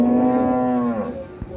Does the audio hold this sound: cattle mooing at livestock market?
yes